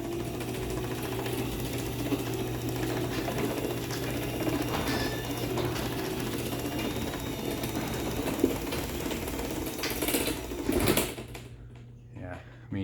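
A garage door opener runs quietly, seen from above, giving a steady mechanical whir with faint gear and chain ticking that fades out near the end.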